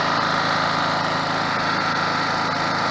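A Werk WPG 3600 petrol generator runs at a steady, even drone, loud and close, with a constant rhythmic engine hum and no speech.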